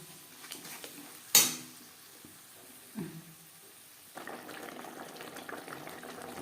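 A paste of tomato, onion and garlic, with ginger and green chili paste, hits hot mutton fat in a pan: a sharp metal clank, a soft stir, then a low, steady frying hiss that continues quietly to the end.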